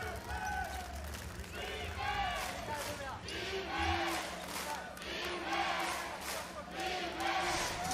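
Fans of the SunRockers Shibuya chant rhythmically in a basketball arena during a B.League game, repeated two-beat calls from a large crowd rising and falling over steady hubbub, with a commentator talking over it.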